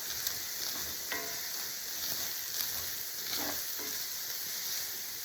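Spoon stirring a baked ziti mixture of Italian sausage with Parmesan and black garlic seasoning, a steady soft scraping and shuffling texture with faint sizzle-like hiss throughout, close and continuous with no talking.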